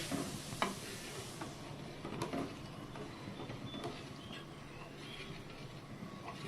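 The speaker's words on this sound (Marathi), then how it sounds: "टाकून झाल्यानंतर हे दूध हळूहळू हलवायचं आहे" Milk is stirred slowly in a pan while it thickens for homemade kulfi. Soft, faint scraping and swishing repeat steadily, with a few light ticks of the spoon against the metal.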